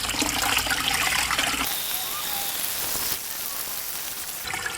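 Water rushing through a paint roller cleaner, a loud steady hiss and splash of flowing water that changes character partway through but keeps running throughout.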